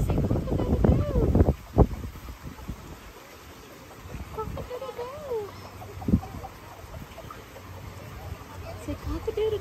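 A rooster crows loudly in bursts, with clucking fowl and a person talking softly nearby.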